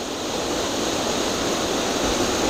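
Steady broadband rush of a waterfall beside a hiking trail in the Eifel, loud and continuous with no break or voices.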